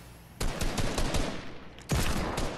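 Gunshots in the Fortnite video game: two loud, sharp bursts of rapid fire, the first lasting over a second and the second starting near the end, with no talking over them.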